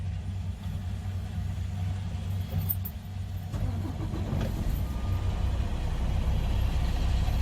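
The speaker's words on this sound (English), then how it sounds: "Now I'm going to turn my engine on so I can check my gauges." A Prime Inc truck engine turns over and settles into a low, steady idle inside the cab during a pre-trip inspection, fairly close and moderately quiet.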